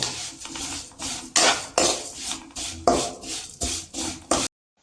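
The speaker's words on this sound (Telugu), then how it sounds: "ఇప్పుడు సేమ్యాని బ్రౌన్ కలర్ వచ్చేంతవరకు వేయించుకుందాం" Vermicelli stirred in hot oil in a pan, heard as repeated scraping and clinking strokes of a utensil against metal in an irregular rhythm, close and fairly loud, ending abruptly.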